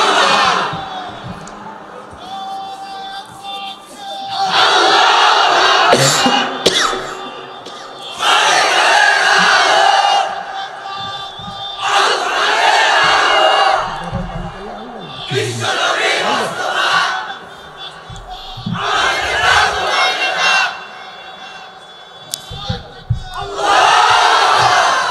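A large crowd at an Islamic religious gathering in Bangladesh shouts a takbir chant in response to a call, with several loud, roaring bursts separated by short pauses.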